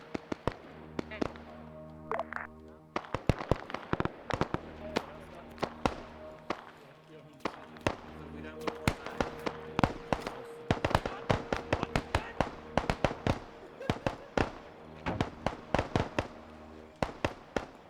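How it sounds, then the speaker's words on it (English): Mortar firing illumination rounds during a night-time Vietnam-era multiplayer game operation: a dense run of sharp booms and cracks, some near and some distant, mixed with a low rumble, with voices talking over parts of it. "we're going to stick on the mortar and keep getting illumination put out for you"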